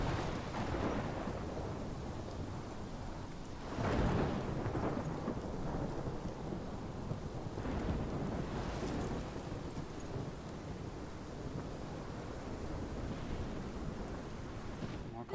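A thunderstorm in the Life is Strange video game, with constant heavy rain hissing and rolling thunder swelling in loud rumbles, one strong crack near the start and another later, and no one speaking.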